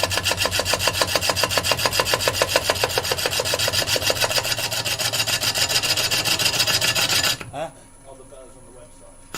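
Woodturning gouge cutting into a spinning mallee burl on a lathe, a loud rhythmic rasping and scraping with regular pulses from the turning wood, stopping abruptly near the end to leave a quieter hum.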